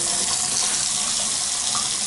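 A sink faucet runs steadily at strong pressure, a loud, continuous rush of water with no break and no voices.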